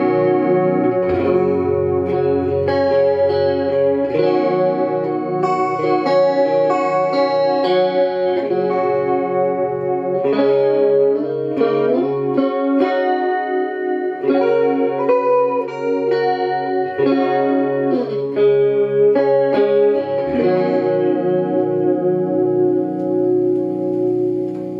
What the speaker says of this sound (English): Turn the depth all the way up, turn the rate down. Make for a nice shimmer. We'll add some reverb to it.